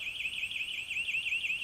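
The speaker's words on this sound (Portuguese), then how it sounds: "o alarme dispara" An electric fence alarm siren sounds continuously in a fast warbling wail, rising and falling steadily, moderately loud with no talk.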